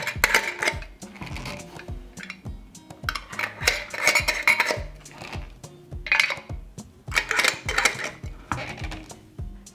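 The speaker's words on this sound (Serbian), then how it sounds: "I na kraju tegle zatvaram sa čistim i novim poklopcima" Glass jars are closed with clean new lids, giving a run of close metallic clinks and scrapes in uneven bursts, with no talking.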